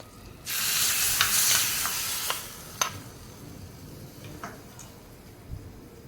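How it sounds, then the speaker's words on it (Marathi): Hot spice tempering is poured onto red pumpkin, giving a sudden loud sizzle burst that fades over about two seconds, followed by scattered clicks and scrapes of mixing. "ही फोडणी आपण आता डांगरावर घालणार आहोत. चांगलं मिक्स करून घेणार आहोत."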